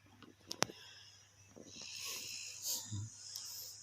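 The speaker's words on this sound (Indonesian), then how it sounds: "Kan tidurnya ngorok kan." A sleeping person snores softly, each faint, wheezy breath rasping close by in an otherwise quiet room.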